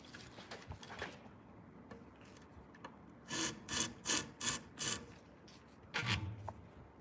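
A Shun kitchen knife is drawn across a sharpening stone in a run of about six quick, even rasping strokes, close and fairly loud, followed by one more stroke after a short pause.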